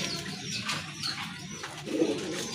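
Pigeons in a pair kept for sale coo softly amid a noisy, busy background, with low murmuring calls rising near the end.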